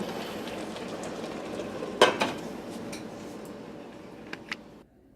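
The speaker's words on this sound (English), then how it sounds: "It's been simmering for roughly about 10 minutes and it looks absolutely delicious" A chicken and broccoli one-pot meal simmers in a pot, giving a steady bubbling hiss, with a clatter of a utensil against the pot partway through and a few lighter clinks before the sound cuts off.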